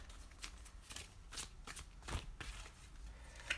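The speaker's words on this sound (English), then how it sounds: "I'm just shuffling right here off camera." Tarot cards being shuffled make a quiet run of soft riffling flutters and taps in repeated short bursts, faint and close in a still room.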